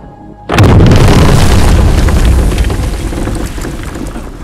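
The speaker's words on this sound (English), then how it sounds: "you can always hear the sound of the shockwave only a few milliseconds after the explosion" A bomb explosion from the film Oppenheimer: after a brief quiet moment, a massive booming blast erupts, followed by a sustained roaring, rumbling shockwave that slowly decays over several seconds.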